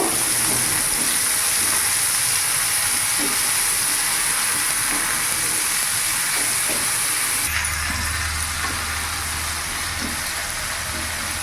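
Chicken fries with cumin, coriander and turmeric powder in a loud, continuous close hiss and sizzle that shifts to a deeper, rumbling tone in the last few seconds, with no voices.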